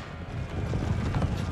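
Horse Grenadier Guards cavalry hooves in the Empire Total War battle game, a dense, steady rumble of many hoofbeats with faint mechanical clatter, continuous and moderately loud through a short stretch.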